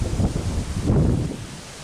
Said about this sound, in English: And the wind is just nutty.